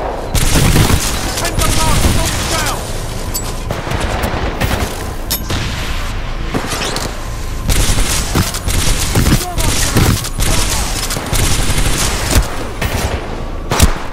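Titanfall 2 gunfire: dense bursts of shots and booming blasts crackle almost nonstop at loud level, with a voice talking over the shooting.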